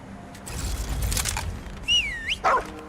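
Dog in the video game Remnant 2 gives a couple of short, loud barks and a whine near the end, following a stretch of steady game background noise.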